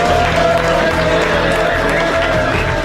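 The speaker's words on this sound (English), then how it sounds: "When the applause died down" Sustained applause and crowd noise fill a casino room at the World Series of Poker Europe 2007 main event: a dense, steady wash of clapping that stays loud and even, with a few voices mixed in.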